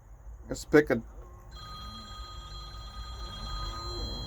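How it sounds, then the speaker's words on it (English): A telephone rings in a short, close burst of two or three rings, and then a steady electronic hum with faint tones carries on under a quiet background. "other phone's ringing, but that's okay"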